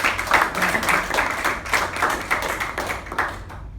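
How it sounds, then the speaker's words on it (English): Audience applause for Jerome at a talk, a steady wash of many hands clapping close by that thins slightly toward the end, with no voices over it. "A big round of applause for Jerome"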